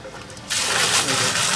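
Milk gushes into a large vat for cheese making, a sudden loud, steady rush of liquid that starts partway through and keeps going.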